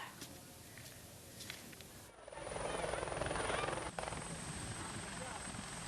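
An Indonesian Army military helicopter's rotor thrums loudly, swelling as it comes closer and staying steady, with voices talking faintly underneath.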